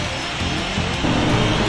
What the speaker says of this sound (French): au premier virage, Louis Bélanger fait un dérapage